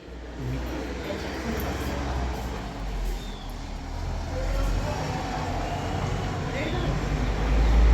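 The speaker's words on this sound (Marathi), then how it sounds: "ही चालली आहे मानसीन त्यांची गाडी" Vehicle driving away, a low engine rumble that holds steady and then swells toward the end, with a person talking over it.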